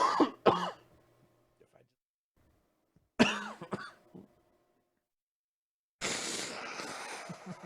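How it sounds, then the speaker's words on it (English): Repeated coughs and throat clearing from a sick podcast host come in close, loud bursts separated by quiet gaps, ending in a longer rough, breathy stretch. "I need to take another cough break"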